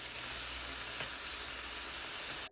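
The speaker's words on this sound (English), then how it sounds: "So that bacon is sizzling." Thick applewood smoked bacon sizzles in a saute pan over medium-high heat, a steady close hiss and crackle with no talk, holding even for a couple of seconds before cutting off.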